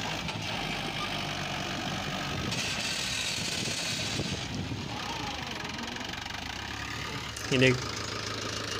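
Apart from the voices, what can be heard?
tractor engine running, tyres stuck in loose soil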